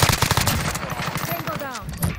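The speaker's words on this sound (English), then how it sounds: "Taking effective fire!" Rapid automatic gunfire in Call of Duty Warzone (Cold War era, KRIG 6 assault rifle), loud dense bursts running throughout with a faint voice underneath.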